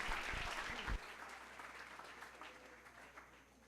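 A conference audience at a politics and globalization congress gives the speakers a round of applause, loud clapping at first that quickly fades to a thinner scattering of claps.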